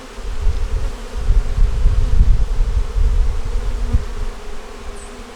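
Honeybees buzzing around a hive in late season with little nectar or pollen coming in, a dense continuous low drone that swells and fades slightly, close and fairly loud with no voices.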